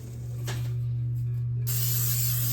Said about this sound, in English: I'm gonna spray my loaf pan.